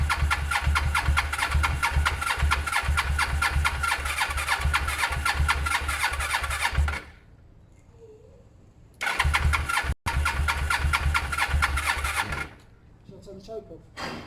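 A 500cc Suzuki GS500 motorcycle with freshly cleaned and balanced carburettors turns over and fires, its engine chugging loudly before cutting out, then restarting and running again, with a brief voice in the pauses.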